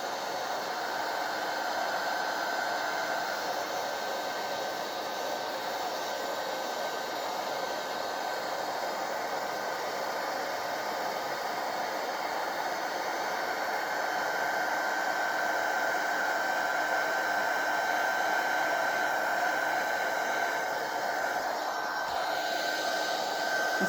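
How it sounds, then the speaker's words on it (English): A heat gun used for embossing a handmade card blows a continuous, even airy whoosh with a faint whine, steady and close for the entire stretch. "Just give it a rub on the back because it can warp a bit from the heat gun."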